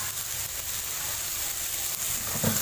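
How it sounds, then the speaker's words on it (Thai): Tomatoes stir-fried in a pan for an Indian vegetarian eggplant and potato curry give a steady, fairly soft sizzle and hiss, with a brief scrape or stir near the end. "ใส่มะเขือเทศลงผัดสักครู่นะคะ"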